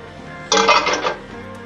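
A lid is set onto a cooking pot of pork belly pochero with cabbage and pechay, making one brief metallic clatter with a short ringing clink, close by and otherwise quiet.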